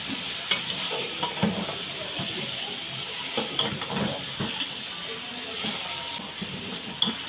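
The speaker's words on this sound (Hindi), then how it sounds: "देखिए हमारा मसाला भुन गया" Masala of tomatoes, crushed green chili and ground coriander fries in a pot for beef yakhni pulao, giving a steady, close sizzle with frequent scraping stirs throughout.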